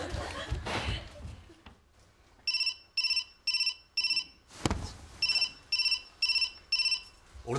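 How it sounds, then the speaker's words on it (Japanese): A telephone rings in repeated short electronic trill bursts, two groups of four rings separated by a pause, over rustling and low background noise. "俺の電話だ。"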